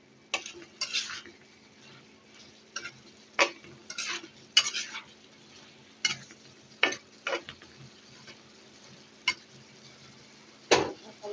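Sweet pumpkin pieces frying in a pan are stirred with a utensil, sharp irregular scrapes and clinks against the pan over a faint low sizzle, with quiet gaps between strokes.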